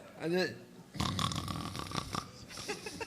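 A voice mimics loud snoring, a rasping snort followed by a rattling drawn-out breath, amid bits of talk.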